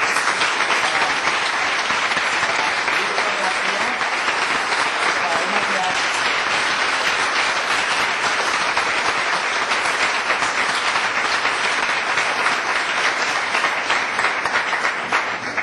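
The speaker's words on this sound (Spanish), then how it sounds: "pido un aplauso para Antonio Luca" Applause from a dinner audience at a first-anniversary celebration for Antonio Luca, sustained dense clapping that stays loud and even throughout, with voices mixed into the crowd noise.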